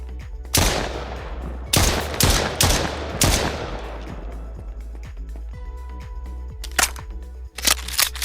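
Bursts of gunfire from a first-person weapon in a survival horror game, several loud sharp shots in quick clusters near the start, then a few more isolated shots after a quieter stretch, with no talking.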